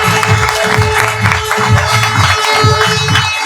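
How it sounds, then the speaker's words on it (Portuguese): A large event audience claps and cheers to welcome a speaker, with a dense, steady wash of applause and crowd noise close and loud throughout, with low rhythmic music or voices pulsing underneath. "Então me ajudem todos a receber com uma grande salva de palmas, diretamente de Maringá, Felipe Ottoni!"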